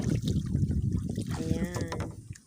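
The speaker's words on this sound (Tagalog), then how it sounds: "Sagwan lang yan." A paddle dips and pulls through water as a small fishing boat is rowed, soft splashes and trickles running beneath people talking nearby.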